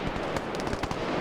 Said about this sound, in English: They're still shooting at their own guys.